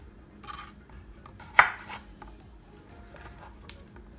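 A knife cuts through baby potatoes on a board in a few scattered, close strokes, one sharp chop standing out among lighter taps and scrapes, fairly quiet with no voices.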